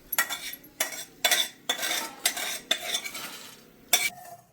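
Fried dried red chillies scraped from a pan onto a plate, a series of about eight sharp metallic scrapes and clatters in an uneven rhythm, close and fairly loud.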